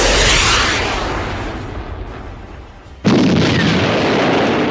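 Ion torpedoes fire and explode in a Star Wars space combat video game: a loud, roaring blast that fades, then a second heavy burst that breaks in abruptly and rumbles on.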